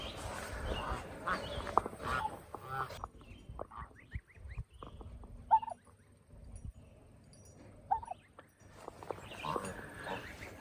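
Farm birds, likely ducks or geese, give scattered short calls and quacks near fruit trees, with louder stretches of background noise and people talking at the start and end.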